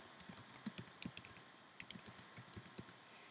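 Rapid computer keyboard typing while entering an answer in a language-learning spelling exercise, with irregular bursts of sharp key clicks close to the microphone, pausing briefly midway before resuming, no voices.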